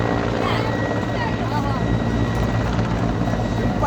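A Bangladesh Army helicopter hovers close by, its spinning rotor producing a loud, rapid, continuous thudding beat over a steady turbine whine, with voices talking over it.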